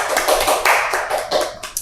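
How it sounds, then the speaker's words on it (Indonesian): A few people in a casual indoor talk-show setting clap their hands, giving a quick, uneven patter of close, bright claps that rise and fall over a couple of seconds without any talking. "Tepuk tangan dong Vito dong."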